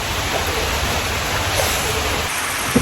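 Steady rain falling outdoors near a cooking fire, a dense continuous hiss with no breaks, loud and even throughout.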